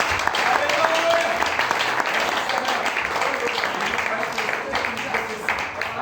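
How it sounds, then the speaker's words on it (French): A church congregation breaks into steady, sustained applause that fills the room and stays loud and dense throughout, with voices mixed into the clapping. "Est-ce qu'on peut acclamer?"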